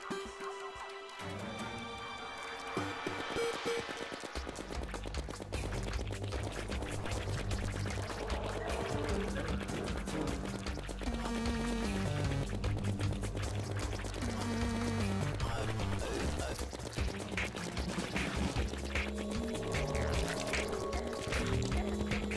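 Water bolt spells are cast repeatedly during a Terraria Wall of Flesh boss fight, their sounds merging with dense, continuous game effects and music.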